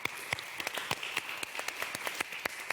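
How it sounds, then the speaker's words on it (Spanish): Applause from a small audience at a feminist panel discussion, fairly quiet and sparse, with distinct individual claps popping out of a soft steady patter. "Se puede aplaudir, ¿eh?"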